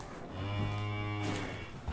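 On a village farm, a cow calling for her calf lets out a single long, loud, steady moo that fills nearly the whole moment, with no speech around it.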